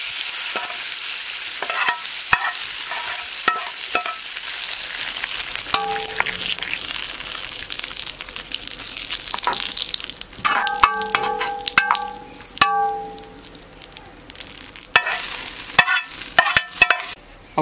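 Mustard seeds, curry leaves and dried chillies tempering in coconut oil, alone without voices: sharp popping crackles and spoon-stirring clinks over a steady sizzle, with bursts of metallic clanging from the pan toward the end.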